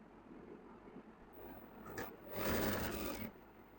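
A sewing machine stitches men's trousers, starting quietly and then running in a short, steady burst of rapid whirring before slowing again, close and fairly soft.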